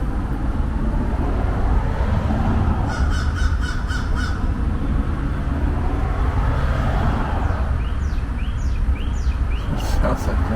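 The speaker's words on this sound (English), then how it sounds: "See that bird talking about super beats?" Crows caw a few times outdoors in a field, harsh repeated calls heard at moderate distance over steady wind or traffic noise, with someone talking at times.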